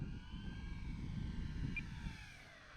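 A large Carbon Z Cub SS radio-controlled plane drones past at a distance in a steady, faint engine hum with a low rumble, no voices.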